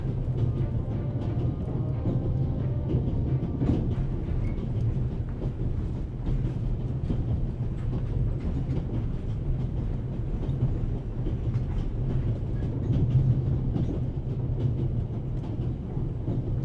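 Train rolling on rails in the video game The Raven: Legacy of a Master Thief, a continuous low rumble with faint rhythmic clatter, steady and unbroken with no voices.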